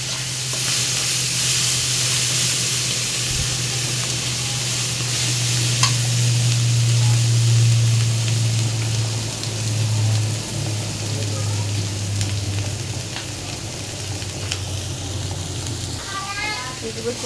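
Chicken frying with ginger-garlic paste, turmeric, chili and spices in a pan beside an egg dish, giving a steady close sizzle throughout, with a low hum underneath and a few faint clinks and stirring sounds.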